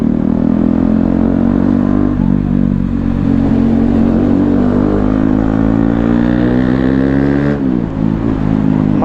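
A KTM Duke 250 motorcycle fitted with a loud aftermarket Akrapovic-style exhaust, idling close by with a deep, throbbing burble, then a brief sharp blip of the throttle near the end.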